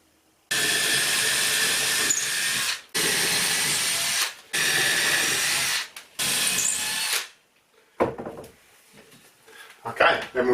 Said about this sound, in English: then we'll drill them out